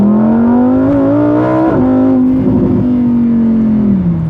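A 2020 Lamborghini Huracan Evo engine pulls hard and loud, its strong harmonic tone rising through the revs, dipping at a gear change and sustaining close and steady with no talk.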